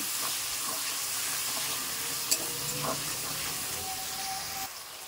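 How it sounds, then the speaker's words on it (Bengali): Tomato paste fries in a pan while being stirred, a continuous hiss and sizzle with occasional scrapes and a faint watery trickle in the background. "দেখো আমি কিন্তু টমেটো বাটাটা দিয়ে আর একটুখানি নাড়িয়ে নেব"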